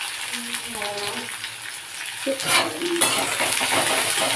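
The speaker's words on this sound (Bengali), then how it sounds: "পেঁয়াজটাকে একটু ভালো করে ভেজে নেব" Onions frying in a pan for a chicken dish, a steady close sizzle with spatula stirring and scraping against the pan, growing busier toward the end, with faint voice in the background.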